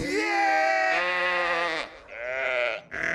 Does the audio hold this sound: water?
no